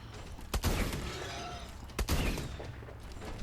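Rocket turret firing in the video game Call of Duty Exo Zombies, two sharp loud blasts about a second and a half apart, each trailing into a noisy rumble.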